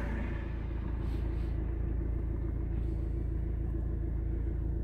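Driving exam car idles at the start of a test, a steady low engine rumble heard from close by without any change in pitch or loudness, with no one speaking.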